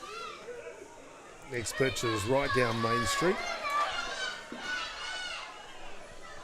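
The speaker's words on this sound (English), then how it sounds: "you can probably hear the kids are having a ball in front of me" Kids playing and shouting during a U13 mixed softball game at a ground with a good crowd, their lively voices in the foreground while a commentator talks over them.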